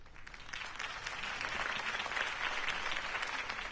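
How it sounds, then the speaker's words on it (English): Crowd applause at a campaign rally for Harvey Dent in Batman: The Telltale Series, a dense wash of clapping that swells and holds steady, heard from a distance with no voices over it. "If only Mr. Wayne, my campaign's largest backer, could have heard that applause"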